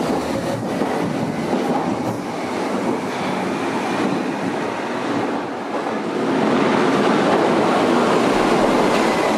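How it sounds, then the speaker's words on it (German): A Berlin U-Bahn U9 subway train at an underground platform, heading toward Rathaus Steglitz, makes a loud, steady rumble and roar that builds slightly as it pulls away, with faint clatter throughout and no talk. "Wir begeben uns nun zurück auf unseren Bahnsteig, wo die U9 bereitsteht zur Fahrt in Richtung Rathaus Steglitz."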